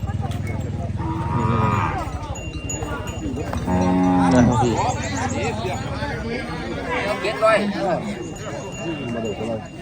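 Cattle at a livestock trading market in Na Muang Noi, Phang Khon, Sakon Nakhon, Thailand, moo repeatedly: several long, loud calls, some overlapping, over a steady crowd murmur with people talking nearby.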